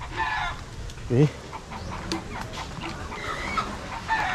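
Pullet chickens cluck in a short burst near the middle, over a noisy farmyard background with other faint fowl calls, while a person speaks a single brief word.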